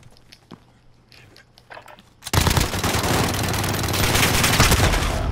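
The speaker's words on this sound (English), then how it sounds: "This guy's shotgun is so slow." A video game shootout erupts into a sudden, loud, sustained barrage of rapid gunfire after a few quiet clicks and faint thuds.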